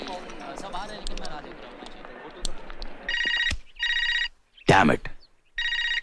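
A telephone rings in repeated short electronic bursts with brief gaps, loud and close, after a stretch of people talking and a sharp knock.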